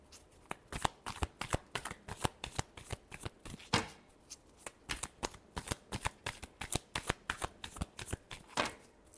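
Tarot cards shuffled close up in a steady run of crisp riffling slaps and flutters, loud and continuous with brief gaps, no talk.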